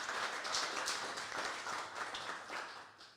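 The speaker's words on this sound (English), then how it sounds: "if you guys wouldn't mind giving a round of applause for all of our hardworking team in our kitchen and on the wait staff" Applause from a dinner audience at a winery songwriter event, honoring the kitchen and wait staff: a continuous, fairly faint wash of many people clapping from across the room.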